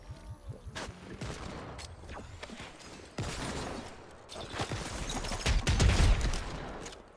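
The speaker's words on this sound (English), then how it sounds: "Not realize this was a hand cannon." Rapid bursts of hand cannon fire in a Fortnite match, crackling in quick irregular volleys with sharp impacts and mechanical clatter that build louder toward the end.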